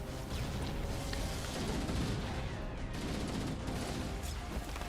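Frag grenades going off in the Halo 2 video game, a thick rumbling wash of explosions and crashing debris that rolls on steadily throughout with no speech.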